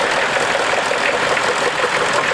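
Orange Field Marshall tractor at a steam rally, its engine running as a steady, loud, close rumble with no pauses.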